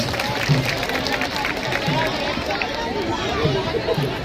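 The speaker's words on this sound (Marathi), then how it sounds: "तुम्हाला सर्वांचा टाळ्यांचा गजर जाऊ दे जोरदार टाळ्यांचा" Crowd applause at a Pimpri-Chinchwad municipal and police car-free day event, a dense steady patter of many hands clapping continuously with a murmur of voices mixed in.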